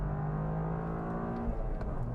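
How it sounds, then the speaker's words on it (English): A 2023 Toyota GR Corolla hot hatch accelerating hard on a race track, its buzzy engine drone climbing in pitch and then dropping as a gear changes, heard steadily from the cabin without speech. "Such a buzzy little engine"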